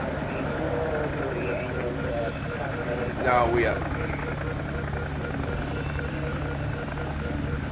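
An AH-1W Super Cobra attack helicopter in the video game Strike Fighters Modern Combat gives a steady engine and rotor drone throughout, while someone talks over it.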